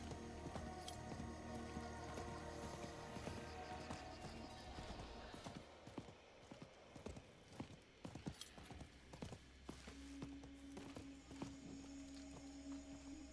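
Horse hooves clip-clopping in the video game Diablo 4, a quiet, steady rhythmic trot of hoof falls over a continuous game soundscape, with a sustained tone entering partway through and no talk.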